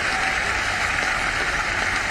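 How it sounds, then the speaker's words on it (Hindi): Steady crowd applause at the Indore Auto Show 2022 forms an even, hissing wash of many hands clapping at once, with no voices over it. "इंदौर की तालियों में दम है।"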